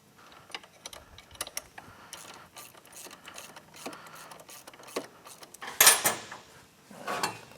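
A ratchet works a 13 mm bolt during drive shaft replacement on a Polaris ATV, giving a run of small metallic clicks and clinks close by, with a louder burst of rattling near the end.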